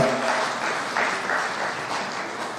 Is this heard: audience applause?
yes